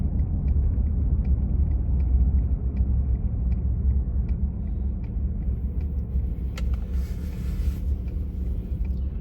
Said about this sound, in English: there's a line of cars coming into here